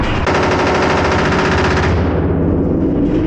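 A rifle fitted with an FRT trigger fires a very fast, continuous burst of automatic-style gunfire, loud and close, with a long unbroken string of shots that stops abruptly.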